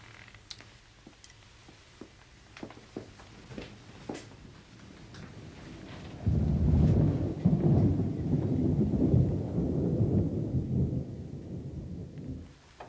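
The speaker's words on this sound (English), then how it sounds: "There was thunder in the distance" Distant thunder on a stormy night: a long, deep rumble builds and rolls for several seconds, preceded by light ticking drips of rain, with no talk.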